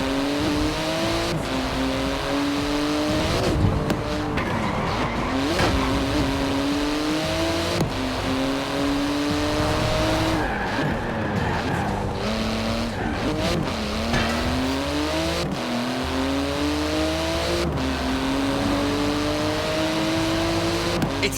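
A Porsche GT2 RS with magnesium wheels and a titanium exhaust races in Forza Horizon 4, its engine revving through repeated upshifts with rising and falling pitch, and tyres squeal now and then, loud and continuous throughout.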